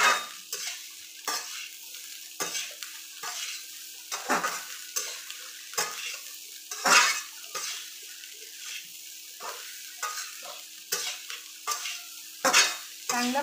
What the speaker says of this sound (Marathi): व याला परत एकदा हलवून घ्यायचे।